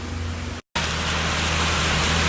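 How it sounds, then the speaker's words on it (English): Heavy rain pours down steadily outdoors in a dense, even hiss that fills the whole clip, broken only by a brief moment of silence. "All it's doing is just pouring down rain, literally."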